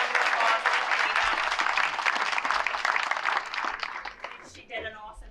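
An audience at a Chamber of Commerce Business Appreciation Night gives a musician a sustained round of applause, dense clapping that thins near the end as a voice begins speaking over it.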